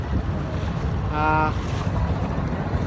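Small boat on the Buriganga river near Sadarghat, a constant rumbling motor and water wash with wind buffeting the microphone, and a brief tonal horn-like hum rising in the middle.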